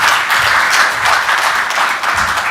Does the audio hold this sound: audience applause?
yes